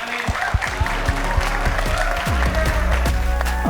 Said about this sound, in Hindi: इनके लिए तालियां बजाओ जरा जोर से.